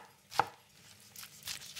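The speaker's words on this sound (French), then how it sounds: "Ensuite, je vais couper très grossièrement mes tomates." A knife coarsely chops tomatoes on a board for patatas bravas with chorizo, one firm close thud followed by softer, wetter cuts and slicing strokes, with no talking.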